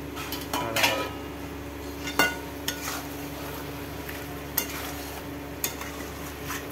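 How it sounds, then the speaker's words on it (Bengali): Sour yogurt being stirred into chicken kosa curry in a pot over a low gas flame, with a low simmering hiss and scattered sharp clinks and scrapes of a spoon against the metal. "ভালো করে মিশিয়ে নেওয়া হচ্ছে টক দইটা।"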